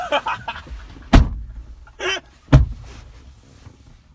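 Door sounds come from a 2012 Ford Ranger XLT as someone gets in: a loud thud of the door, a brief rustle and then a second solid thump, with faint voices heard at the start.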